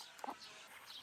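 Chickens and small chicks at a summer farmyard give a few faint, brief clucks and peeps, quiet against a soft hiss of outdoor background.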